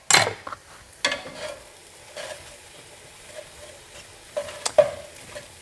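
Pasta sauce frying in butter in a pan for a seafood pasta, a faint steady sizzle broken by a few sharp scraping stirs of a utensil against the pan, with no talking.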